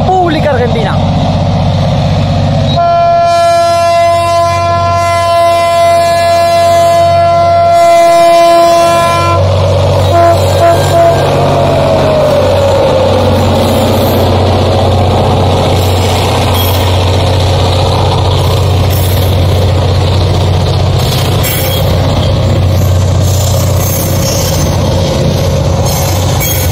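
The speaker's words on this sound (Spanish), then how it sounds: "Locomotora 7936, la Argentina, paso firme," Freight locomotive 7936 "La Argentina" of Urquiza Cargas passes the Virgen de Luján street level crossing in Chajarí, Entre Ríos, sounding a long loud horn blast before its heavy rumble and rolling wagons continue close by, with a voice speaking over it.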